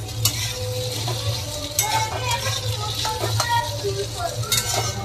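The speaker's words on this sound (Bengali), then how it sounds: "গাজরটাও একটু ভাজা ভাজা করে নেব।" Carrots and potatoes sizzle in oil while being stirred in a pan, a continuous close frying hiss broken by scraping and clinking of a spatula against the metal, with a low steady kitchen hum beneath.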